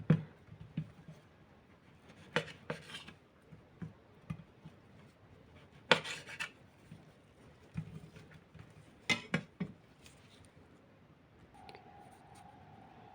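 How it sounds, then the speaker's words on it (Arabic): A knife cutting through Molto croissant pastries for an Om Ali dessert, heard as scattered light clicks and taps on a board or dish with a few sharper knocks, close and fairly quiet with no speech. "نبدأ بقى كده نقطع المولتو كله كده"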